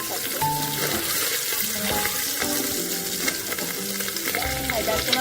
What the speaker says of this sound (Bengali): এখন তেলটা গরম হয়ে গেছে, এখন আমি এটার ভিতরে ডিমগুলো দিয়ে দেবো।